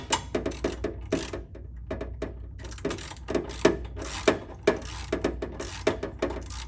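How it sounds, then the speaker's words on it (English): A 13mm socket wrench ratchets a bolt on a Can-Am Spyder RT during a belt tensioner install, a close, loud, steady run of rapid clicking strokes with brief pauses between pulls. "a 13mm wrench on this socket"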